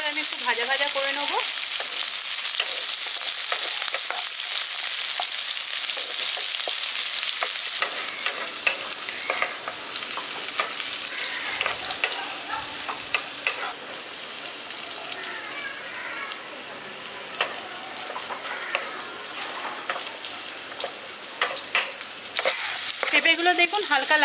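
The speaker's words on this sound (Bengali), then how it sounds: "পেঁপেটা দিয়ে এবার হালকা লালচে করে আমি একটু ভাজা ভাজা করে নেব।" Pieces of raw papaya frying in hot oil with green chillies for a village-style papaya and moong dal dish, a loud steady sizzle running throughout, a little fuller at the start and end, with occasional stirring.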